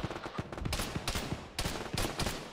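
Rapid bursts of automatic gunfire from a military video game crackle in quick, uneven volleys, dense and mid-distance with no talking over them.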